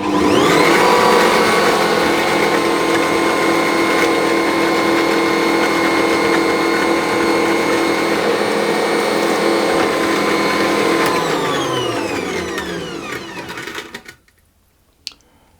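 An Ankarsrum stand mixer churns sugar and egg together, a steady loud motor whir that holds evenly for about eleven seconds, then winds down and stops, leaving near silence.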